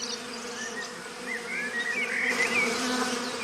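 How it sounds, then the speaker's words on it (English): A swarm of honey bees fills the air with a dense, steady buzz, many wings droning together with shifting higher whines as individual bees pass near. "There's nothing odd to our eyes about swarming bees"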